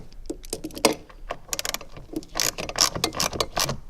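A wrench ratchets bolts snug on rubber-mounted metal bushings during a Galant VR4 fuel filter job in a garage, giving close, irregular clicking and metallic bursts of tightening with brief pauses between them.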